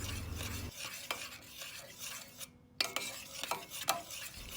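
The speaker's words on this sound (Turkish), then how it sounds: "Bir paket vanilya ve bir yemek kaşığı da tereyağı ekleyip e, böyle eriyene kadar karıştırıyorum." A spoon stirs vanilla and a spoonful of butter into a hot cooked sauce in a pot off the heat, with steady scraping and occasional clinks of metal against the pan over a faint sizzle.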